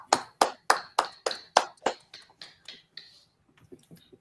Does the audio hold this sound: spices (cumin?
no